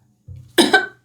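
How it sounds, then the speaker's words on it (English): One person gives a single close cough, a short throaty lead-in and then two quick harsh bursts, alone in a quiet room. "I want to cough."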